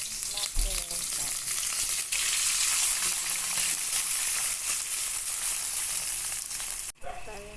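Onion and mackerel sautéing in a hot pan give a steady, loud, close sizzle that holds without a break for about seven seconds, then stops short, with a faint clink near the end.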